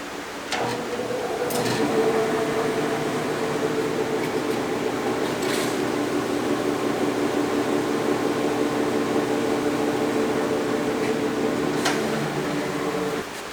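A Grizzly G0513A40 17-inch 2 HP bandsaw powers up and runs, producing a loud, steady motor hum and whir that holds constant for the whole stretch with a few faint clicks.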